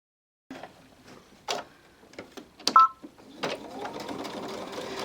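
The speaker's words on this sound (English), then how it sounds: "I'm just going to baste all the way around" A sewing machine bastes around a bag, starting with a few short bursts of stitching and then running steadily, close and clear in a quiet room with no talk.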